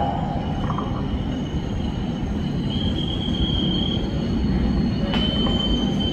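KRL Commuter Line electric train at the upper level of Manggarai station in Indonesia, with a loud continuous rolling roar and drawn-out high wheel squeals as the cars pass close by.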